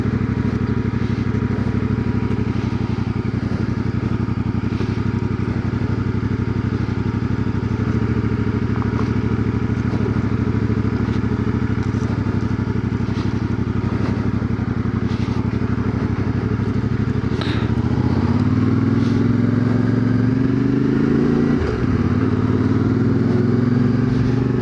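A CFMOTO 450MT adventure motorcycle on the move, its engine droning steadily close up with rumbling road and wind noise, then revving higher as the pitch climbs in the final seconds.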